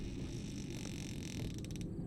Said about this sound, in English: Did the door make extra noise, or was that a door opening as the door was closing?